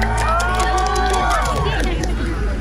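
A live concert crowd cheers and claps loudly, with whoops and shouting mixed into a dense, continuous roar of audience noise while music plays underneath.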